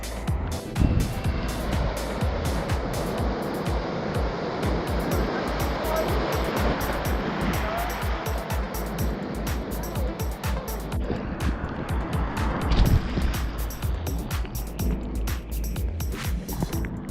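Big ocean waves breaking during a surf session, a continuous loud roaring wash of surf with repeated crashing bursts across the whole stretch, no talk.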